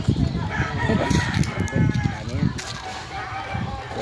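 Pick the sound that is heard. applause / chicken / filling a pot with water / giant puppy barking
chicken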